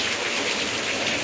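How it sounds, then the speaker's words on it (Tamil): Heavy rain pours down steadily in Hosur, a dense, continuous hiss of drops hitting surfaces, close and even with no gaps and no voices. "பாருங்க காய்ஸ், சரியான மழை."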